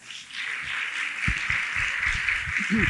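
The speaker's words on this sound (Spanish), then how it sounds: "un aplauso por favor" Church congregation applauding to welcome first-time visitors at a women's service, a soft wash of clapping swelling and lingering, with a voice speaking over it toward the end.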